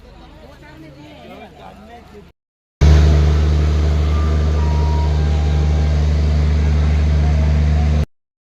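A vehicle travels on the road during a Somnath pilgrimage yatra. After faint voices and a short silence, a loud, steady engine-and-road drone starts and holds until the end.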